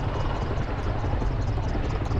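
A Chinook helicopter at the Farnborough public airshow, heard as a steady, loud, dense rotor and engine roar with no break and no voices over it.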